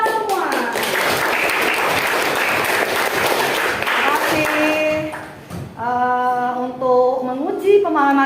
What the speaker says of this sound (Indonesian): kali lagi tepuk tangan untuk kita.